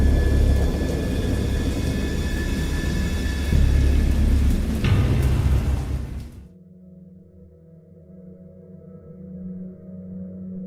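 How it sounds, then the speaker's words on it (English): Thunder booms in a wild storm, a loud, heavy rumble lasting several seconds with a sharper crack partway through before it falls away abruptly to quiet ambient sound. "I know that I heard pearls of thunder and other tones which nature utters only in her wildest moods."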